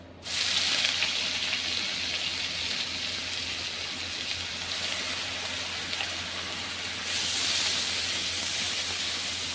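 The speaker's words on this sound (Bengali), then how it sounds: "এখন আমি এই তেলের মধ্যেই দিয়ে দিচ্ছি দেখো যে পেঁয়াজ বেটেছিলাম, ওই পেঁয়াজ বাটাটা আমি 2 চামচ দিয়ে দিচ্ছি" Two spoonfuls of ground onion paste sizzle loudly the moment they hit hot oil while a prawn and pointed-gourd curry is being made, a steady dense hiss that swells again near the end, with no voices.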